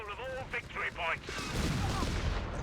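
Battle gunfire in a Company of Heroes 3 match between British and Afrika Korps forces, a dense rattle of shots and thudding impacts that grows louder in the second half, with a voice talking over the opening.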